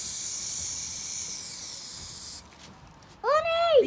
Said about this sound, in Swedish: Nu ska vi spraya den gula med.